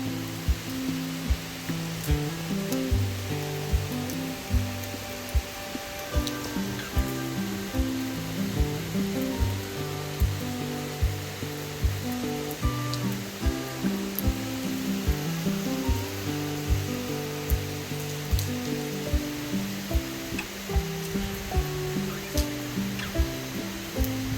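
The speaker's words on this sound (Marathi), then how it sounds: "खूप पाऊस चालू आहे डोंगर अजिबात दिसत नाही" Heavy rain pours down in a steady, dense hiss that never lets up, with a faint melodic tune running underneath.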